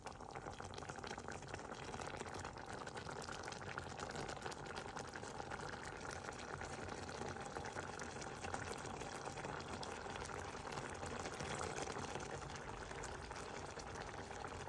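Batticaloa-style kannava (squid) curry bubbling in a pot, a faint, continuous simmering hiss and gurgle that holds steady and soft throughout, with no voices.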